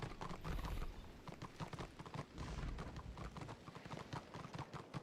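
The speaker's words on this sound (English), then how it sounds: "Oh, look at this little horsey." Horse hooves clip-clop at a steady trot in the Warhammer Online video game, a rapid, even run of hoofbeats that stays clear and continuous throughout.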